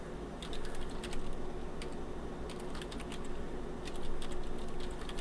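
Rapid clicking of typing on a computer keyboard, steady bursts of keystrokes over a low background hum, close and moderately quiet.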